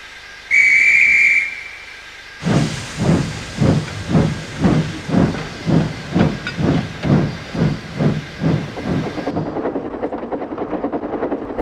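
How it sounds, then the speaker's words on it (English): A toy steam engine departing a station on a model railway, first a bright short whistle, then a steady series of rhythmic hissing chuffs that keep pace before giving way to continuous steam hiss and running noise. "Once all the passengers were climbed onto Thomas's train, he set off."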